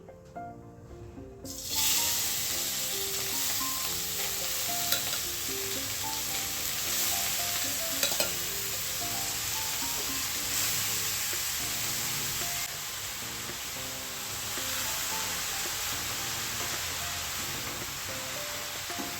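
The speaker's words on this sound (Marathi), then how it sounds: "आता उरलेल्या तुपामध्येच आपल्याला आपला किस घालून घ्यायचा आहे" Grated carrot sizzles steadily in hot ghee in a pan over a high flame, a dense continuous frying hiss with occasional stirring scrapes, close and fairly loud throughout with no talking.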